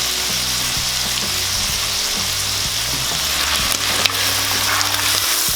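Beef innards sizzle loudly in a pan with a constant frying hiss while a spoon scrapes and stirs through them, and a low steady hum runs underneath. No one speaks.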